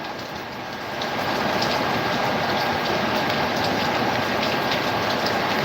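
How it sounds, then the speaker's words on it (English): Light rain falls steadily outside a slightly open window, a broad even hiss of drops that swells after the first second and holds without a break, with no talk. "Can you hear the rain?"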